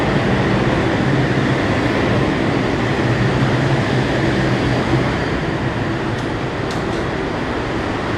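A New York subway train pulls into an uptown station, a loud continuous rumble and roar of rail cars filling the platform, with brief high screeches near the end.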